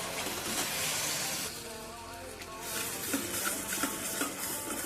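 Ground masala paste with red chilli and turmeric sautéing in hot oil in a pan, a moderate sizzle that eases midway, then returns with light scraping and stirring taps, fairly close and without talk.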